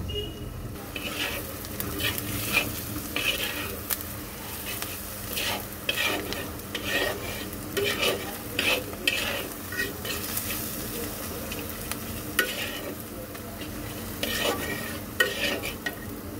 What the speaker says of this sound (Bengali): এইবার এটাকে একটু সুন্দর করে মিক্স করে দেব।